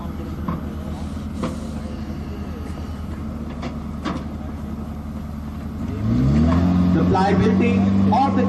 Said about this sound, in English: Using the auxiliary power unit, the gun can move at a maximum speed of 7 kilometers per hour.